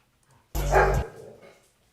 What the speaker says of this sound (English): I can hear these dogs growling.